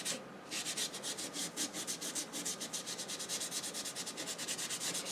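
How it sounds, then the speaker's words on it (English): Sandpaper rubbed over the skin of a dried apple gourd in quick, steady back-and-forth strokes, a close, dry scratchy rasp repeating in an even rhythm, with no talking. "you can use a little bit of sandpaper to get to those."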